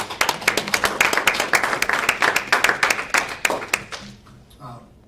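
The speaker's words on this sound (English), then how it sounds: "Please again, round of applause for that." A small audience claps at a school board meeting, a sparse run of distinct handclaps fairly close by that thins out and stops near the end.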